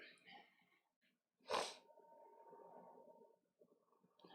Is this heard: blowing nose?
yes